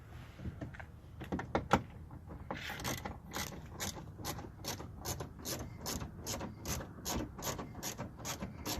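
A hand ratchet clicks in quick, even bursts while bolts are backed out of a side mirror on a 2007–2013 Chevy Silverado, sharp close ticks repeating across the whole stretch.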